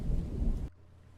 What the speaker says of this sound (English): It's too cold outside and the rain is getting heavier by the minute.